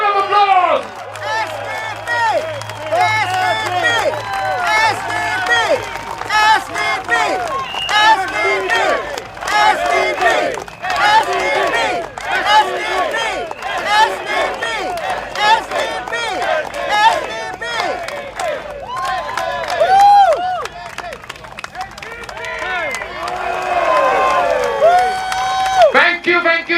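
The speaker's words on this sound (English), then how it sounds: "Round of applause." Rally crowd at an SDP election rally for Marsiling-Yew Tee GRC cheers, shouts and applauds during a stage garland presentation, a dense, loud and sustained roar with whoops running throughout.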